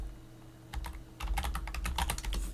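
A command is typed on a computer keyboard at a Linux terminal: a brief pause, then a quick, close burst of crisp key clicks with no talking.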